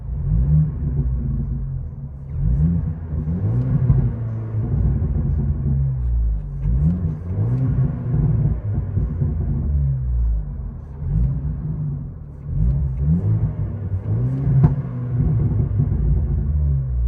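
A Stage 1 tuned Mercedes CLA 250 2.0L turbo engine with the muffler deleted idles roughly and revs repeatedly, loud and close, with a deep, raspy exhaust rumble that swells and settles in cycles.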